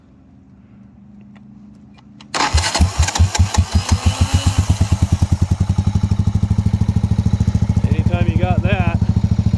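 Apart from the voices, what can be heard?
Buell motorcycle engine starting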